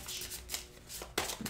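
A single card is drawn from a tarot deck, with a brief close rustle and slide of cardstock, then a sharper snap as it comes free.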